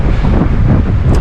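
Strong wind buffets a microphone on a fishing boat during a fall bass outing, a loud, steady low roar filling the short stretch.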